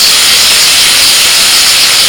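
Cardamom, cinnamon, cloves, whole cumin, ginger and green chilli paste sizzle loudly in a little hot oil, a steady dense hiss that holds unbroken throughout.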